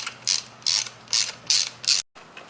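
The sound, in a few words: torque wrench clicking while tightening bolts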